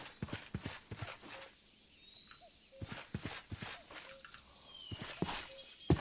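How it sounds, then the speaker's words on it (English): Horses walking in a video game, a steady sequence of hoof clip-clops at close to middle distance with a faint bird call in the background. "There's horses here."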